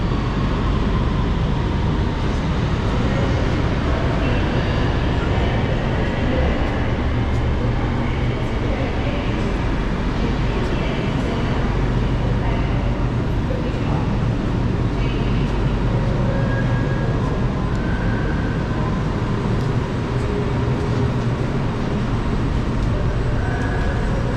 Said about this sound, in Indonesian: Kita udah jadi LRT Putra Hik Sentul Timur.